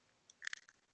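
A crunchy chicken strip is bitten close to the mic, giving a short quiet cluster of crisp crackling crunches with a few soft clicks, no talking.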